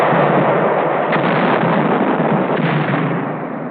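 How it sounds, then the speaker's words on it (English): A heavy artillery gun firing 300-pound shells in wartime is heard as one sustained loud, broadband roar of blast and rumble that stays close and dense for nearly four seconds, with no talking. "Every time we ram one of its 300-pound shells down the throats of the Jerrys, 20 miles away"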